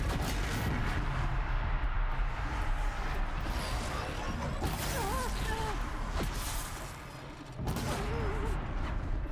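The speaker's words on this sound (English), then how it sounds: "that explosion is massive" Explosions in Horizon Zero Dawn: The Frozen Wilds fill the scene as a loud, sustained barrage of booming blasts and rumbling bursts, with a brief dip before another heavy surge near the end.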